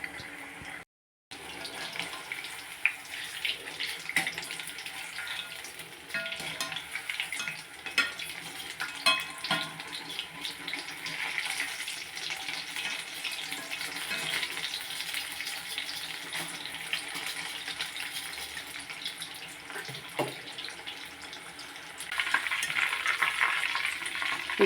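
Chicken pieces cooking in a pan over a medium flame for chilli chicken, a soft continuous sizzle with occasional stirring and a watery bubbling, fairly faint and without talk.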